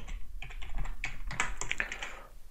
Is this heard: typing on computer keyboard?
yes